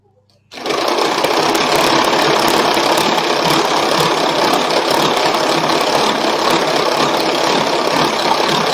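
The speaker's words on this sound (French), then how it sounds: "Je vais mettre le couvercle sur mon Speedy et je vais battre au niveau avec la vitesse 1." A Speedy food processor runs at speed 1 beating spiced cream. After a brief quiet start, a loud, steady, buzzing motor whir begins and holds unbroken to the end.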